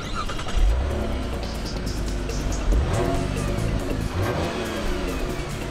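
A Chevrolet Impala with a 305-horsepower 3.6-liter V6 and 6-speed transmission pulls away in a steady, loud engine drone that rises in pitch through the run, with road and cabin noise underneath.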